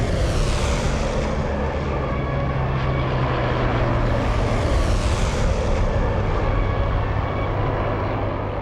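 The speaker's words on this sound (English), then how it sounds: "the graceful plane sweeps over and above their heads" A Handley Page Halifax bomber's piston engines roar steadily in a low fly-past, a loud, continuous propeller drone that holds and swells a little as the plane sweeps overhead, with no talking.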